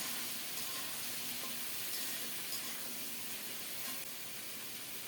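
Taro pieces tipped into hot oil with fried potatoes, giving a steady, even sizzle and hiss, soft and continuous with no talking.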